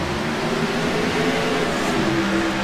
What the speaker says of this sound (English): Damie Long hits the loud pedal. Green, green, green